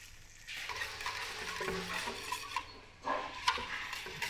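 Hot boiling sugar syrup being poured gradually onto cocoa mass for a Guatemalan cocoa sorbet, giving a soft bubbling sizzle with light stirring and scraping close by, steady and fairly quiet with a few sharper clinks.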